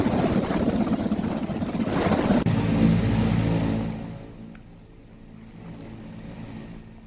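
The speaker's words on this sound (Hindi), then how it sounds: "ऐसे में Mi-17 हेलीकॉप्टर के जरिए मदद की गई" A Mi-17 helicopter flies over a forest fire in Uttarakhand, its steady rotor and engine drone loud at first, then easing off and fading to a lower, more distant hum.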